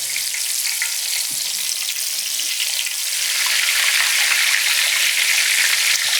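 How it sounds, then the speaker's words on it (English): Battered cube steaks fry in hot oil with a loud, continuous crackling sizzle that grows slightly denser over time, heard up close with no talking. "These steaks only take a couple of minutes on each side to fry and get cooked."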